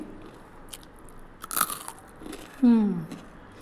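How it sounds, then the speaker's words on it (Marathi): Crunchy fried bhaji fritters are bitten and chewed up close, with crisp crunching bursts, then a brief voiced sound near the end. "अगदी मी इकडे खात असेल तरी तिकडे कुरकुरीत आवाज येत असेल"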